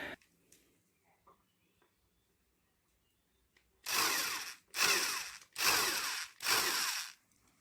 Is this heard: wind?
no